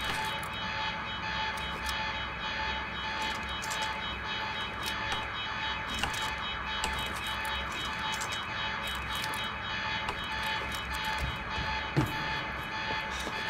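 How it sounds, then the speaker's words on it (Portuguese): A continuous electronic alarm blares in the video game Quantum Break, a steady droning tone with rapid clicking and ticking textures running through it at an even level. "the alarm must have locked everything down"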